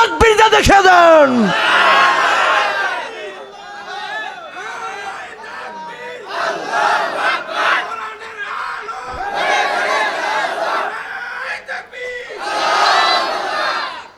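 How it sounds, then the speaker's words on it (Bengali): Large rally crowd chanting takbir, Allahu Akbar, in loud repeated bursts, each swelling roar separated by brief pauses, with some scattered shouts between. "দুইটা হাত তুলে তাকবীর দিয়ে দেখে দেন"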